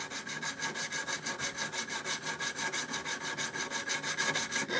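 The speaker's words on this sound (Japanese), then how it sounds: "大まかな形ができたらヤスリをかけ耳かきの形を整える。" A craftsman files a metal ear-pick end of an ornamental hairpin into shape, producing steady, evenly spaced rasping strokes in a quick back-and-forth rhythm, close and clear with no talking.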